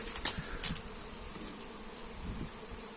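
Honey bees fly around a hive at an apiary, a steady buzzing swarm with a couple of louder individual bees passing close to the microphone.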